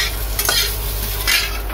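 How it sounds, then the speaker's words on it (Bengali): Potatoes frying in a pan for a meat curry, a steady close sizzle with a few scraping stirs of a utensil partway through, no voices. "এখানে আমি মাংসের জন্য আলুগুলো ভেজে নিচ্ছি"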